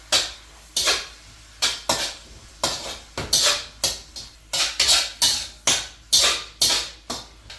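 Egg being scrambled in a pan for Pad Kee Mao, a utensil scraping and clanking against the pan in a fast, regular series of a dozen or so loud strokes, with no voices.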